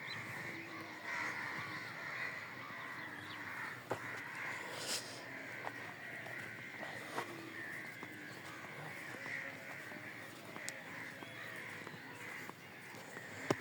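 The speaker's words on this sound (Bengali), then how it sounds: "ভাই দেশের পাখি নিয়ে সব কাউয়া।" Crows caw repeatedly around a rural village, scattered harsh calls at varying distances over a quiet outdoor background with a few sharp nearby sounds.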